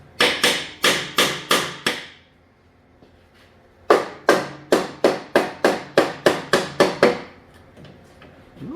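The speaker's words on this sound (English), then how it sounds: "I know you're not supposed to hit these with a hammer, but this is a brass hammer" Brass hammer blows on a part of a 1974 Dynastar lawn tractor: a rapid run of five sharp metallic strikes, a pause, then about a dozen more evenly paced hits, close and loud.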